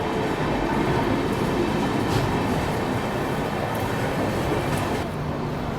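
The Bangalore Gandhidham Express, hauled by an EMD locomotive, at a station: a loud, steady rumble of rolling rail wagons carries on continuously throughout, with no talking.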